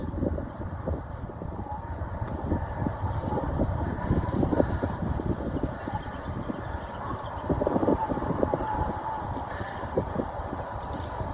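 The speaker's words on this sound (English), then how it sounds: "It's quite windy, but not too chilly. A very pleasant wintry wind, you can say." Steady gusty wind rumbles and buffets the microphone at an outdoor cricket ground in cool wintry weather, a continuous low roar with no talk over it.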